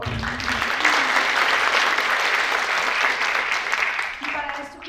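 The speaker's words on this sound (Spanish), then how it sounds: "iniciamos con un fuerte aplauso lo que van a ser los paneles de este día de hoy. Un aplauso, por favor." An audience in a conference hall applauds to open a panel session, a loud, even wash of clapping that holds throughout, with a voice faintly audible at the start and again near the end.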